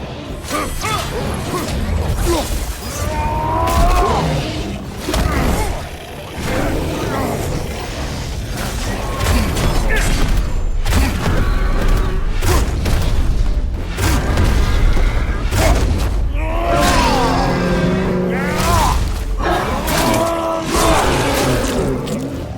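Explosions and crashing combat effects in the video game God of War Ragnarok, loud and dense throughout with repeated booms and mechanical clanks, while game characters shout over the mix.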